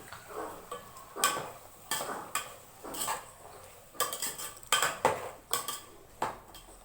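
Vegetables in a pan being mixed with turmeric, chilli powder and coriander powder, the spoon clinking and scraping against the metal in an uneven rhythm, close and fairly quiet, without speech.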